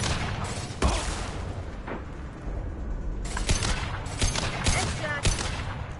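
Gunfire in the video game Mass Effect 2, several sharp shots and bursts cracking over a dense rumbling battle background, with faint voices mixed in.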